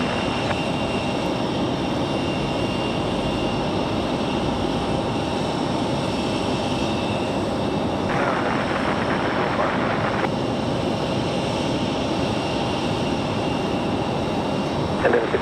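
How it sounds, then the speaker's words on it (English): A Republic Airways jet airliner arriving from Chicago O'Hare approaches Raleigh-Durham airport with a steady, distant engine roar and a whining tone that shifts partway through, over an otherwise constant background. "Then we have Republic Airways 4518 coming in from Chicago O'Hare."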